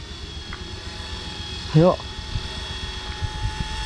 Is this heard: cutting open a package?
no